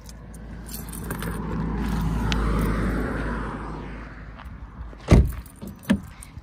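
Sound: keys jangling

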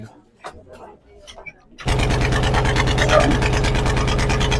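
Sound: boat engine starting

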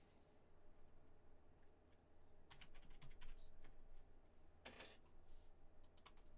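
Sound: typing on a computer keyboard

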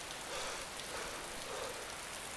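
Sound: rain in the video game DayZ

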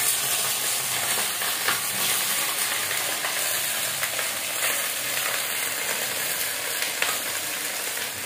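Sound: okra frying and sizzling with potatoes in pan

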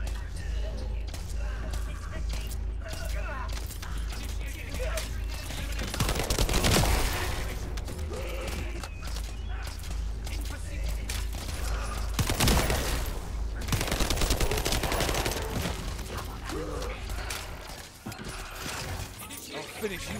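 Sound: turret firing in video game The First Descendant

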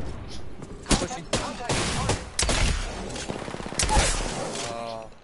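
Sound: gunfire in a video game

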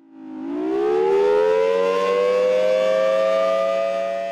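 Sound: civil defense siren

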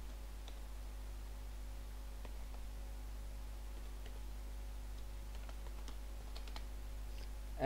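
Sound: typing a password on a computer keyboard

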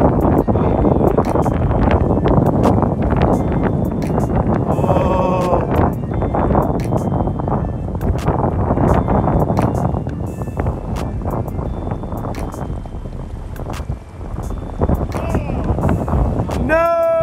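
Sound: wind on South Platte River, Colorado

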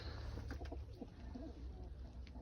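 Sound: pigeons cooing

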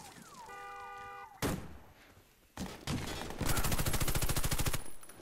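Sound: sniper rifle gunfire in the video game Warface

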